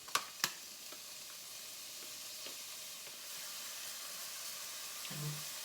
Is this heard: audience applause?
no